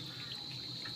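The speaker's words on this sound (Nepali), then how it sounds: "हामी पानी भर्न आएको।" Water runs steadily from a village tap into a container, a continuous faint hiss with a thin high ringing tone, heard close and alone.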